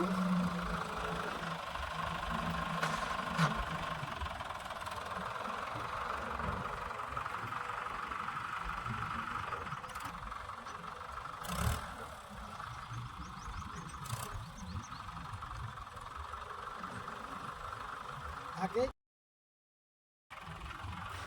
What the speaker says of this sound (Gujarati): ટ્રેક્ટરે ટ્રેક્ટરે લોડેરી ભરાય જ જાય ટ્રેક્ટર ફટાફટ